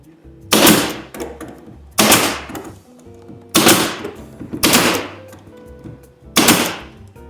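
An Arrow PT50 or Metabo HPT NP50A air nailer fires five sharp, loud shots at uneven intervals about a second apart, each followed by a short fading rattle.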